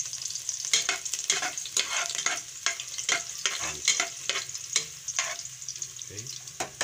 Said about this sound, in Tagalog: Painitin po natin ng konti para ilagay po ang bawang.